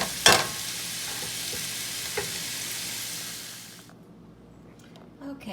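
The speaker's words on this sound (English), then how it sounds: "So just keep chopping it up and browning it." Sausage sizzling and frying in a pan while being chopped and browned, a steady broadband sizzle with stirring scrapes that cuts off near the end, leaving quieter background.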